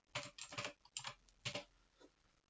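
Typing on a computer keyboard, several quick bursts of close key clicks separated by short pauses, fairly quiet with no talking.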